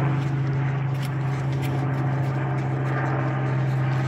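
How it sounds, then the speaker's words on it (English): A search and rescue helicopter passes high overhead, a constant droning hum with a strong low tone that stays steady and fairly loud throughout. "Search and rescue helicopter."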